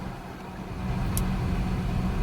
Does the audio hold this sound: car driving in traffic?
yes